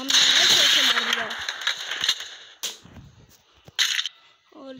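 Free Fire gunfire lands a headshot: sharp, crisp gun bursts crack out near the listener, with two distinct loud shots among scattered smaller clicks and game sounds.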